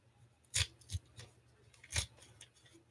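Foil trading card pack torn open at a live pack-breaking session, two or three quick crinkly rips with a sharp tear near the start and another a second later, close and fairly quiet.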